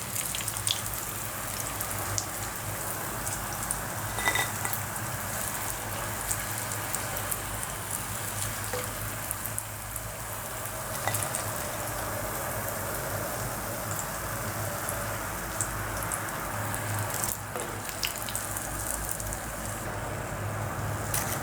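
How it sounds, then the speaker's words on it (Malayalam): Brinjal slices fry in hot oil, giving a steady, close hiss and crackle that runs unbroken for about twenty seconds with no talking. "വഴുതനങ്ങ നന്നായിട്ട് പൊരിഞ്ഞ് വന്നിട്ടുണ്ട്"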